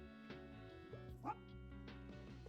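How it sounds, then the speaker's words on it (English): A small dog in the video game Tiny Bookshop yips and barks a few times after being petted, short bright barks over soft background music. "Petted a dog."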